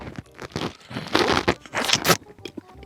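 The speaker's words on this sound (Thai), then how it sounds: "แกงกลางมันจะกรอบมากแล้วก็อร่อยที่สุด งั้นเรามาฟังเสียงแกงกลางไง" Crunching bites of the hard, crisp core of a pineapple, several loud close crunches and chewing bursts in quick succession with no talk.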